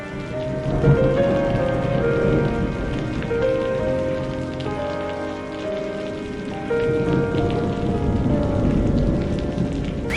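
Steady rain pouring onto surfaces in a cartoon flood scene, a dense continuous patter with faint tonal sounds mixed in.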